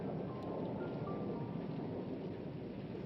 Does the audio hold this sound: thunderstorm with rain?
yes